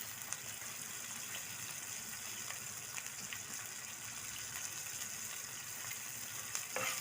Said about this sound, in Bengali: মাছ রান্নার জন্য আমি ফোড়ন দিব হচ্ছে জিরা, তেজপাতা, কাঁচামরিচ,